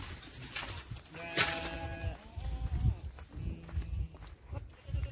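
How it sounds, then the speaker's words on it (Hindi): Goats and sheep bleating on a village farm in Saudi Arabia, several drawn-out wavering calls overlapping at moderate distance, with rustling and a voice speaking in between. "ये हमारी बकरियां हैं"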